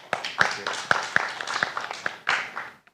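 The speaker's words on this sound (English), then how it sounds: "let's once again give a round of applause to Mr. Gillespie for his very fruitful presentation" Scattered audience clapping after a presentation at a tech forum session, a few distinct hand claps over a thin, short burst of applause lasting a few seconds before it cuts off.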